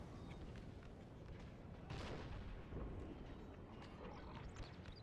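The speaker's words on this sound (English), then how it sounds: "you can definitely tell that they're just getting laid into by this 11th Corps artillery" Civil War cannon fire from a corps artillery line in a large-scale battle game, heard as a continuous distant rumble of booming shots with a few stronger blasts, faint and steady, with no voices.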